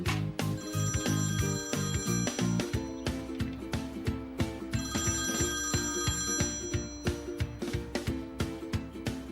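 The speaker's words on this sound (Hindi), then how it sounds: "यार जल्दी फोन उठाओ" A telephone rings loudly in repeated bursts of bright electronic ringtone tones that continue steadily throughout, with no talking.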